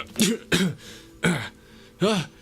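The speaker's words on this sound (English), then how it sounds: "you do hear just some like coughing on the other side" Muffled coughing from the far side of a closed door, four separate hacking bursts spaced about half a second apart, fairly close and clear, with no other voices.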